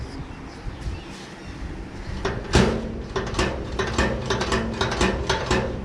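Springy metallic clicks and clacks from a fabricated gas pedal on a 1932 hot rod, fitted with a reheated, bent carburetor return spring, snapping back repeatedly in a quick, uneven series after a louder first snap, close by with no talking.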